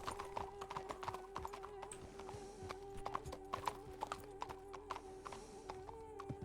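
Horses clip-clopping through a busy town in the RedM western game, hooves knocking steadily and overlapping from several animals, with an occasional faint whinny and some background chatter.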